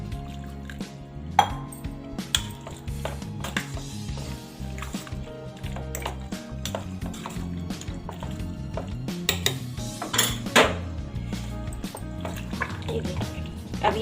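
Yogurt and semolina batter stirred in a bowl with a spoon, giving a steady stream of soft wet squelching and light clinks of utensil against the bowl throughout, with no voices.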